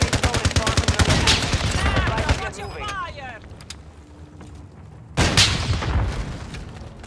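Gunfire in the video game Call of Duty: Modern Warfare II: bursts of rapid shots and booms, loud at the start and again near the end, mixed with in-game voices talking.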